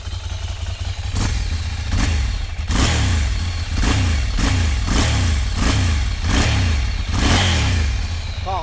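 A motorcycle with its stock exhaust revs in repeated, evenly spaced bursts over a steady idle, close and loud, each rise in pitch falling back before the next.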